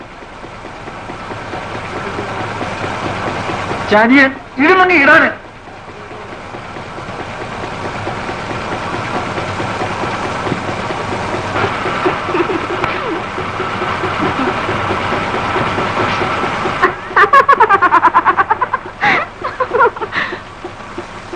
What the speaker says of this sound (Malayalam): ഇവിടെ എഞ്ചിൻ ഓടിക്കൊണ്ടിരിക്കുക.